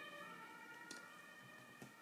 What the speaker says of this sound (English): Oh, there's an ambulance passing by.